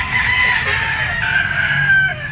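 Gamecock rooster, a yellow-legged banderado stag, crowing loudly and close at a Grotto pet market, one sustained crow that rises and holds through the clip over a busy low background murmur.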